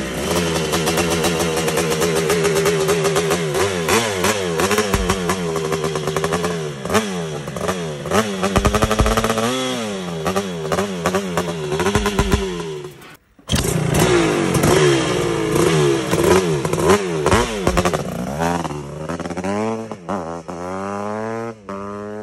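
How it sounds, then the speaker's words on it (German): A motorcycle with a water-cooled single-cylinder two-stroke Rübeck engine revs hard and loud, its pitch climbing and falling in repeated blips, a brief cut midway, then more rasping throttle bursts. "Motor tauscht der Sip gegen einen wassergekühlten Einzylinder-Zweitakter von Rübeck."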